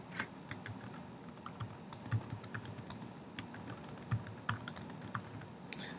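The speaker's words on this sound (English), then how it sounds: "All right, type that in." Steady typing on a computer keyboard while filling in a spreadsheet, with quick irregular key clicks running throughout, close up and fairly quiet, with no talking.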